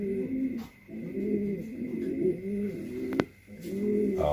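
Racing pigeons of the 003 short-distance line coo in repeated throaty, rolling phrases close to the mic, with a brief pause and a sharp click partway through.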